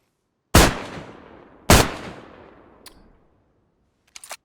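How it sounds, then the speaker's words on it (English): A DT11 double-barrel shotgun firing in DayZ, two loud, sharp blasts about a second apart, each with a long decaying tail, followed by faint mechanical clicks of reloading. "Next gun we have is the DT11. This is a double barrel shotgun."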